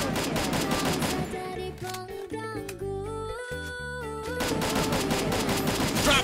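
Rapid bursts of gunfire from a drop shot in the shooter game Free Fire, loud and dense, backed by game music with a quieter stretch midway before the shooting resumes.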